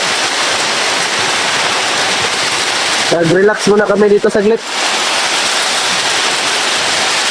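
Heavy rain during a storm, a dense, loud hiss of downpour that runs from start to end, with someone briefly speaking over it partway through.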